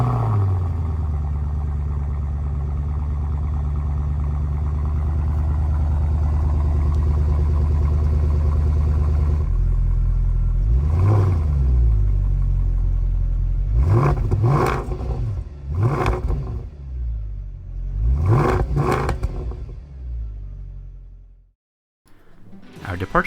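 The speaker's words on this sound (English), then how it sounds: "The second car is a 2008 Mercedes CL63 AMG." A 2008 Mercedes CL63 AMG exhaust idles with a deep rumble, then revs repeatedly in sharp, loud bursts that rise and fall, with a short pause before a final rev.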